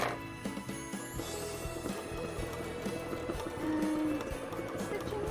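An embroidery machine stitches a cosplay embroidery panel, producing a steady mechanical whirring and rapid repetitive needle clicking, close and continuous, with a faint higher whine near the end.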